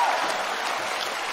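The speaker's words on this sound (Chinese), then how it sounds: "来，鞠躬，大伙儿鼓掌，" A studio audience at a Chinese comedy show applauds, a dense, steady clapping that fills the whole moment.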